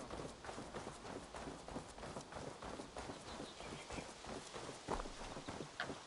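Horse hooves in the video game Assassin's Creed Valhalla, a steady galloping clip-clop running through the whole stretch at moderate volume with a faint voice occasionally underneath.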